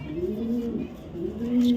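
A Mili racer pigeon coos nearby, giving two soft, low, rolling calls in quick succession over a quiet background.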